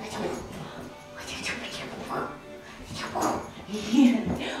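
A young puppy whimpers and yips softly in short, intermittent bursts, close by, mixed in with a person talking to it.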